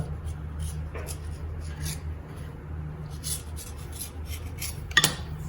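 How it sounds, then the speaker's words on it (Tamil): A knife cutting nacho dough into squares makes soft, intermittent scraping and tapping strokes against the board over a low hum, with a sharper knock near the end. "இது பார்த்தீங்கன்னா சதுரமாக கட் பண்ணிக்கோங்க"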